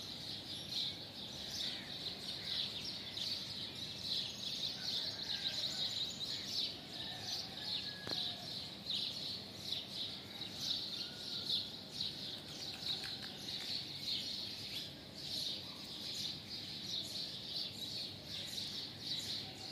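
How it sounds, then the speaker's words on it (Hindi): Small birds chirp and tweet in the early morning outdoors, a steady high twittering chorus running throughout at moderate distance over faint background ambience, with no talking. "चिड़िया चहचहा रही हैं"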